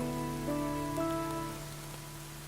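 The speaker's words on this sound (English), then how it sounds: "As predicted, the evening's light showers gradually become heavier." Evening rain showers fall steadily in the Inkopolis streets of Splatoon 2, a constant hiss of drops on surfaces beneath soft sustained musical tones that fade slightly toward the end.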